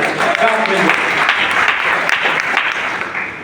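An audience at the Fantasy Kingdom party center gives a loud, sustained round of applause, dense steady clapping filling the room with a few voices mixed in.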